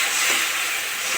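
Spice masala with tomato, cumin powder and salt frying in oil with a splash of water for a fish curry, giving a steady, loud, close hiss and sizzle throughout with no breaks.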